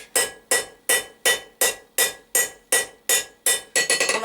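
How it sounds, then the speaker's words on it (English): A hammer strikes hot steel on an anvil, knocking the corners off a taper for a diamond-point fire poker: about ten sharp ringing blows at an even, steady pace, then a quicker flurry of lighter taps. "I'm just going to take the corners off here"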